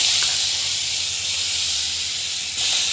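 Onions and tomatoes sizzle dry in a pan with no oil while cooking a South Indian style chutney, a constant close bright hiss with a brief faint clink near the end and no voices.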